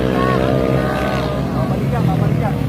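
Yamaha Aerox scooters roar past on a winding mountain road in a steady, loud engine drone with rising and falling pitch as they pass, while people talk and shout over the noise.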